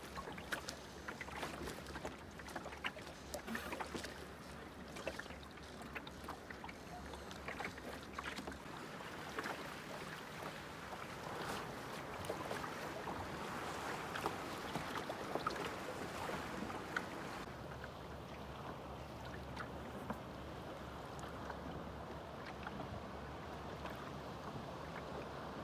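A sailboat rolls through a swell in light air among offshore rocks, with continuous water wash and hull sloshing beneath steady wind noise on the microphone, with no voices.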